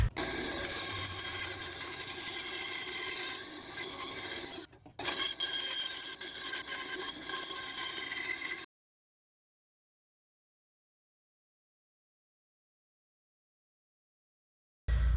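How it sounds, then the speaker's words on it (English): A pine wood wakebait lure being hand-sanded, a continuous raspy rubbing scrape for several seconds with a brief pause, then long silence and a short burst at the very end. "Alright, got the top profile sanded out."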